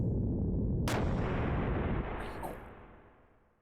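Artillery fire from a ship's gunner in the video game Xenogears: one sharp, loud blast near the start, then a long rumbling roar that slowly fades, with no talking.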